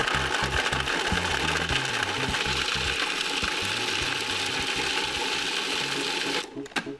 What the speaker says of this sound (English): This is really fast Parmesan cheese, right into the food processor.